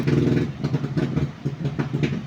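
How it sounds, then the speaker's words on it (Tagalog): Noisy motorcycle close by, its engine chugging and revving in uneven bursts throughout, loud and continuous. "may maingay na motor"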